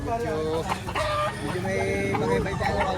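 Chickens cluck and squawk at the bustling Lipa market, with busy crowd noise around them and people talking close by.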